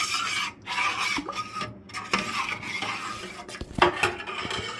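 A spoon scrapes and clatters against a pot while coconut milk and sugar are stirred for Filipino bilo-bilo (binignit), making continuous close rasping and rubbing with a few sharp metallic knocks.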